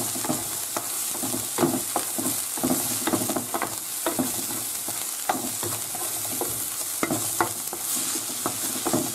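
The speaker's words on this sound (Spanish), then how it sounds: "ahora echamos el pimentón. Le damos un par de vueltas con cuidado para que no se queme." Paprika is stirred into sautéed onion in a pan for fideuá de Gandia, giving a steady sizzle and frying hiss broken by repeated scraping and stirring clicks close up.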